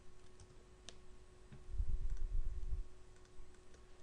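Quiet clicking of computer keyboard keys as a name is typed, scattered soft taps over a faint electrical hum, with a brief louder low rumble in the middle.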